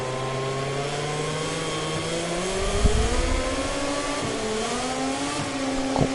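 KTM MotoGP bike engine in a racing video game, a loud sustained whine rising and shifting through gears with a brief rougher burst midway, continuous throughout with no talk.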